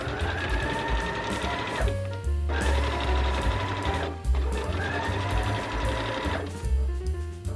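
A sewing machine stitches a ruffle and bias tape onto flannel for a wrap dress, running in three loud sustained bursts of rapid stitching with brief pauses between them.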